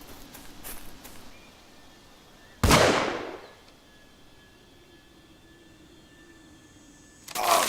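A single sharp gunshot rings out in the Squirrel Stapler video game while hunting a squirrel, loud and close, with a long decaying tail, followed by quiet ambience and another abrupt burst near the end.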